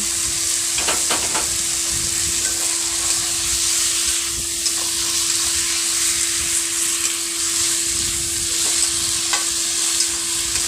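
Boiled papaya and potato sautéing in a pan for a koi fish curry, with a loud, continuous sizzle and hiss, a few spoon scrapes, and a steady background hum underneath.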